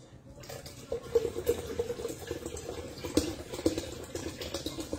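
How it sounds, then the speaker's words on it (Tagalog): Boiled water pours from a kettle in a home kitchen, a steady splashing flow under faint background noise, with no talking. "Naririnig yung tubig."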